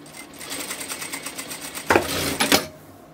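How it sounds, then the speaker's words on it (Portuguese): A sewing machine stitches a 4 cm fabric strip for pleats, running in a steady fast rhythm close by, then stopping for a few sharp bursts of stitching. "Você vai costurar, pode ser a mesma largurinha, 4 centímetros."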